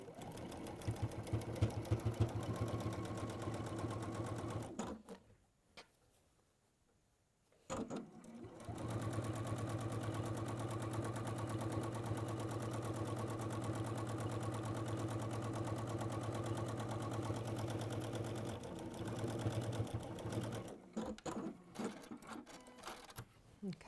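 A sewing machine stitches down the sides of a fabric piece, humming in long continuous runs with a brief pause partway through and a stop near the end, close and steady with no speech.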